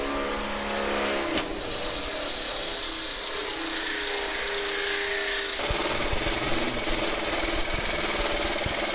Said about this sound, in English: Next, with a hole saw, drill access for your metal cutter.